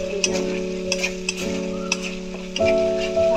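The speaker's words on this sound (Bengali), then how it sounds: "ভালো করে কষিয়ে নিচ্ছি।" Spiced pointed gourd curry sautéing in a pan, with a steady low sizzle and light scraping of a spoon stirring, close and continuous with no talk.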